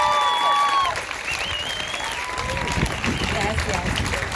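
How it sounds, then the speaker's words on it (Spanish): A crowd at an eighth-grade promotion ceremony claps warmly and steadily, with scattered whoops and cheering voices rising over the applause. "Un gran aplauso para ellos"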